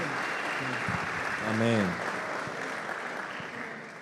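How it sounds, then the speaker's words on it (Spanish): A church congregation at a night sermon during a retreat applauds in a steady wash of clapping. A voice speaks and a brief sung or chanted phrase rises over it midway. "Dale un fuerte aplauso al Señor"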